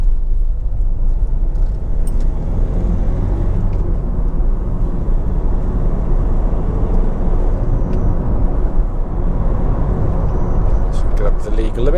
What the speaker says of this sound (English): I'm just going to pull out onto the main road, and I get up to speed and give the brakes a bit of a shove.